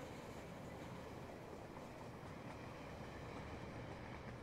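A model train in the video game Rolling Line runs on its track with a faint, steady rumble, unbroken and without talk.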